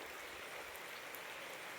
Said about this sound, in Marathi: पाऊस अजूनही चालू आहे